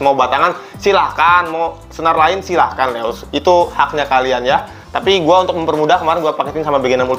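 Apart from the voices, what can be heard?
No everyday noise stands out behind the speech.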